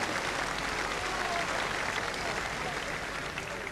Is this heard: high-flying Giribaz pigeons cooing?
no